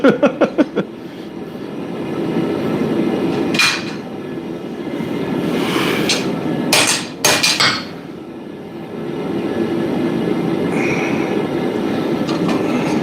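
A blacksmith hammers hot steel during a beveling pass: a quick volley of ringing blows opens, followed by a few scattered strikes over a constant broadband roar.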